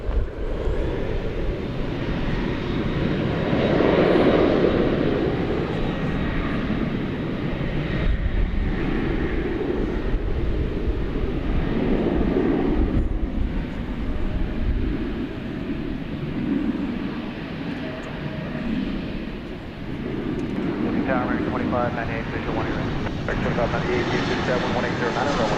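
An American Airlines heavy jet at DFW Airport roars steadily on the runway at night. The loud engine rumble continues throughout, under radio chatter.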